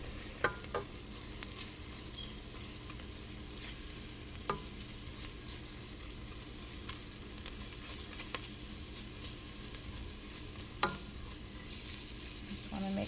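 Flour being stirred into a broccoli cheddar soup base in a pot, a soft steady sizzle with occasional faint scrapes and taps of the spoon over a long stretch.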